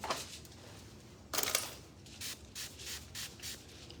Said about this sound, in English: spray with my Blonde Boost spray